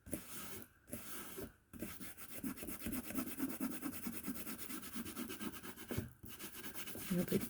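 Excess glue is rubbed off a paper page in a handmade bullet journal, a soft, steady scratchy rubbing that runs in close, repeated strokes with a couple of brief pauses, faint and without speech.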